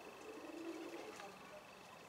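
Low, soft cooing from white Mardin pigeons, heard faintly in a mid-clip burst over a steady, quiet background hum.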